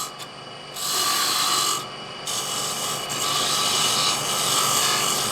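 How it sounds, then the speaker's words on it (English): A parting tool cuts into spinning wood on a lathe to form a dowel. It makes a steady, loud, rasping scrape that continues throughout, with brief dips in intensity, and no one speaks. "you can come in and you can use the parting tool"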